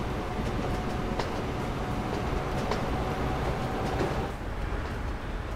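Train rolling past in the simulation game Train Fever, a continuous low rumble with faint clacking, steady and moderately loud with no voices.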